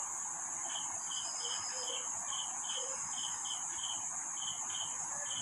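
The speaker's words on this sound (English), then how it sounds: "nature's music can be heard through the voice of the grasshopper" Insects chirp outdoors in bushes and grass, a steady high-pitched trill with repeated pulsed chirps in a regular rhythm, moderately near and continuous, with no voices.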